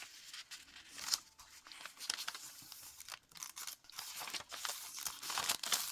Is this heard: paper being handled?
yes